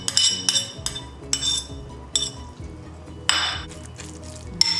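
Sautéed spice paste for Balinese ayam betutu stirred in a pan, with a utensil giving bright clinks and scrapes in an uneven rhythm among soft wet sounds, close by.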